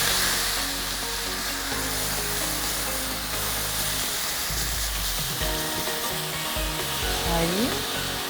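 Meat browning and sizzling in a hot pan for Mexican tacos, a steady loud frying hiss with stirring scrapes throughout, no voices.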